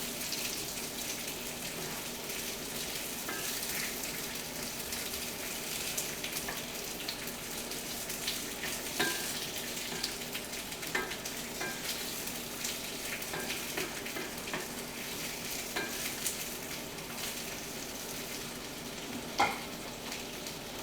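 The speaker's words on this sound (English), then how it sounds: "Listen to that sizzle." Squash slices sizzle and fry steadily in a frying pan, a continuous close hiss with faint crackles and occasional small pops, with no voices over it.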